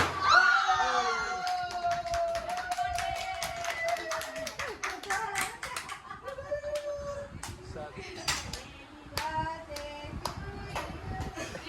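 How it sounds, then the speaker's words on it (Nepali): A group of people claps hands at a birthday celebration, with scattered, irregular claps over lively voices and singing throughout. "ताली बजाउनु"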